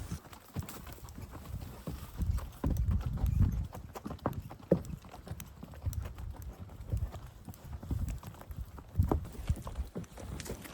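Horses and a pack mule walking on a summer pack trip trail, with steady irregular hoof clip-clops from several animals, some hits close and loud, others fainter, continuing throughout without talk.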